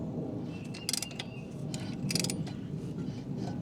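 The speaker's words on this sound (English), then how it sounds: "I got a torque wrench here" Mechanical ratcheting from a torque wrench tightening stator bolts on a Terramite backhoe in a garage, short clicking bursts repeating a few times over a low steady background hum.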